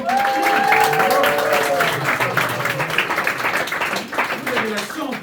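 A theatre audience breaks into dense, sustained applause for the live improv illustrator, loud and close throughout, with a voice speaking over the start.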